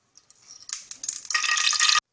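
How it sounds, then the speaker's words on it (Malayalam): Oil poured into a heated pan for tempering papaya buttermilk curry, a soft rising pour followed by a bright, close crackling hiss that cuts off abruptly after about two seconds. "ചട്ടി ചൂടായി കഴിയുമ്പോൾ അതിലേക്ക് എണ്ണ ഒഴിക്കുക."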